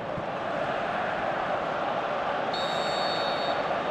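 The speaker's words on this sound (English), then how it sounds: "you can feel and hear how the crowd are reacting to all of this" Crowd in the stands of a PES 2018 football match between two Barcelona sides, a steady loud wash of massed voices throughout, with a faint high tone joining partway through.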